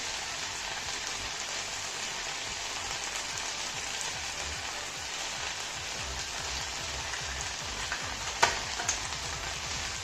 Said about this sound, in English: keep frying this until such time that the potatoes are cooked